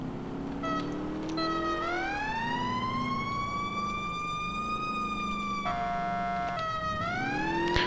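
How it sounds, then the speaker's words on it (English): A fire truck siren in a GTA firefighter mod wails loud and close, sweeping up and down in long rising and falling cycles with no voices over it. "So I got this fire siren thing installed."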